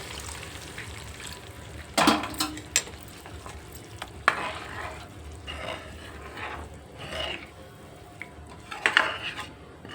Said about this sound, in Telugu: కొంచెం వాటర్ వేస్తానండి